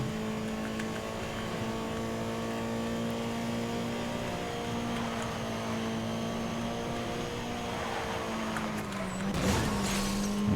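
A car racing fast in Need for Speed: Most Wanted (2012), with a loud, sustained engine drone holding a steady pitch and a brief whooshing burst near the end, with no talking.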